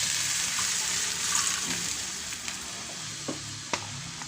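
Chicken with garlic sizzles and fries in a pan, with a steady bright hiss and a few soft clinks of stirring, close and unaccompanied by talk.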